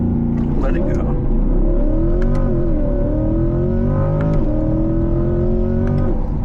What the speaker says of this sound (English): Floor it, let it go.